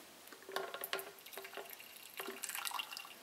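A Mr. Coffee BVMC PSTX91 coffee maker pours freshly brewed coffee in a faint, quiet trickle broken by a few light splashing drips.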